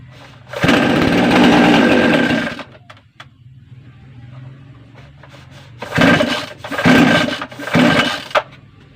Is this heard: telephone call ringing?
no